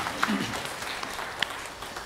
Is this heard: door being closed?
no